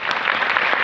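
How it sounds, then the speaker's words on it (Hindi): Crowd applause at a marketing seminar, a steady, close wash of clapping filling the whole brief moment with no talk over it. "Saheb last 1 minute Tali बजाइए।"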